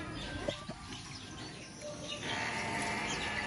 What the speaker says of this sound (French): Les oiseaux sont partout.